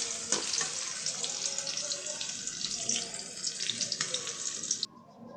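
Chopped onions sizzle in hot oil in a pan while chicken curry with potatoes is cooked, a steady bright hiss close by with faint stirring, cutting off abruptly near the end.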